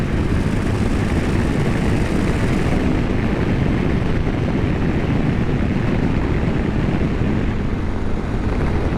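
An unrestored 1983 Honda CX650 Turbo motorcycle ridden just ahead on the road, heard from a moving bike as a loud, steady roar of wind and engine drone throughout, with no talking.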